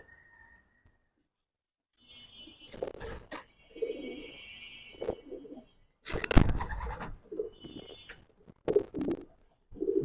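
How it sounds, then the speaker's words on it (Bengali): Racing pigeons in a loft, young birds from 2025, giving soft, low coos in scattered bursts between short quiet gaps, close by, with occasional brief whistle-like tones and no talking. "2025 ইয়াং কবুতর"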